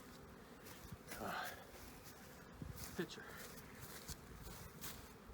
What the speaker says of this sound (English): back over here amongst the bees that are so mad at me